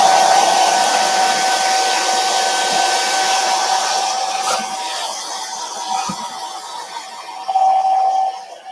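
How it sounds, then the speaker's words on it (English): A hair dryer blows steadily to dry chalk paint on a wooden snowman leaner craft, with a constant airy whine that holds close and loud throughout and swells briefly near the end. "I just like to use my good old, my good old hair dryer"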